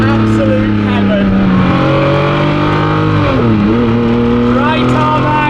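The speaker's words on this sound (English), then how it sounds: "Just listen to this. It's a symphony of V12 noise." Ferrari F50 V12 engine revving loudly downhill on dry tarmac, close and sustained, with rising and falling harmonic pitch sweeps as the revs change, a dip and recovery near the middle.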